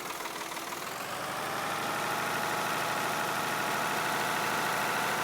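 A weak 50-horsepower tractor engine strains in Farming Simulator 22, giving a steady, continuous mid-low drone that holds unbroken and fairly loud throughout, with no voices.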